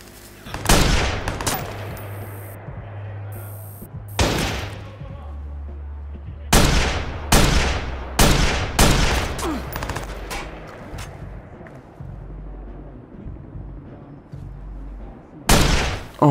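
Gunfire in the Watch Dogs video game: repeated sharp, loud shots come in bursts and single cracks over about sixteen seconds, with steady game background hum between them.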